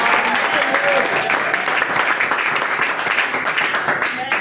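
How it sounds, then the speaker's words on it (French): A church congregation in the village of Aloum, southern Cameroon, applauds and cheers for the Lord, sustained dense clapping that carries on steadily with voices mixed in. "Acclamez encore pour le Seigneur."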